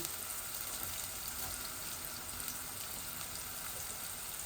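Onion, ginger and garlic fry in a pan for a chicken and potato bhuna, a soft, even sizzle and crackle that holds steady throughout, fairly quiet with no voices.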